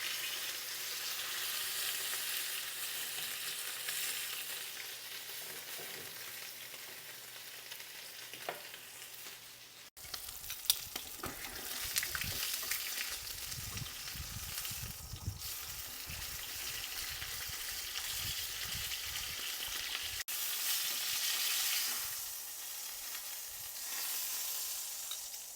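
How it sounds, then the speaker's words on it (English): Ribeye steak searing in a hot pan, a steady loud sizzle and crackle of frying fat throughout, with occasional clatter as the meat is moved and flipped, no talking. "And we're just gonna get a good sear on each side."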